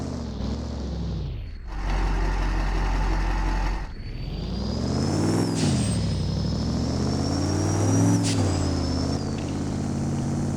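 Hummer engine in the Driving Empire racing game, a loud continuous synthetic engine drone that shifts pitch and rises in revs at points, alone with no talk.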